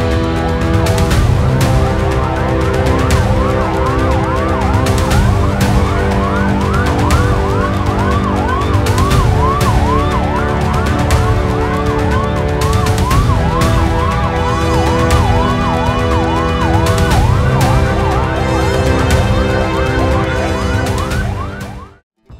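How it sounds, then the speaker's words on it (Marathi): Loud, continuous wailing sirens rise and fall in overlapping cycles for the whole stretch, several emergency sirens sounding together at Belgaum's Sambra airport during an emergency preparedness drill, before cutting off abruptly at the end. "आज सकाळी बेळगाव सांब्रा विमानतळावर अचानक सायरन वाजू लागले"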